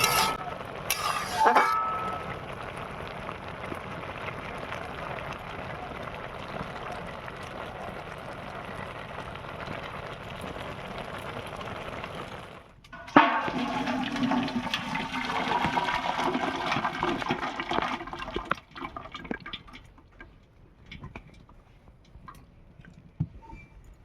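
Water pours off boiled cabbage and chickpeas in a steady, close rushing stream for about twenty seconds, with a brief clatter midway before the flow thins and fades.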